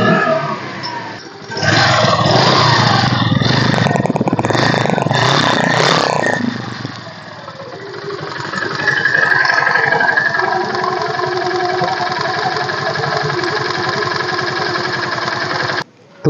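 A 2014 TVS Scooty Streak scooter engine runs steadily at close range, revving louder in the first seconds, then settling into an even idle hum before cutting off abruptly at the end.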